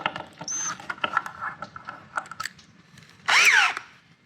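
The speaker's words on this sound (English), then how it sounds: "Screw those straight down into the pipe." A power drill drives screws down into a pipe while a washer toss game is being built. Several brief whirs are followed by one longer, rising and falling burst near the end, close by and with no talk over it.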